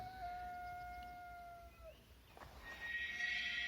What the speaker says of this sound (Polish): A w tle rży ogier.